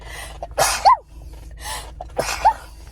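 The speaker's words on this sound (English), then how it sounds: "I have to sneeze." Two sharp sneezes about two seconds apart, each preceded by a quick intake of breath, close and loud with no talking.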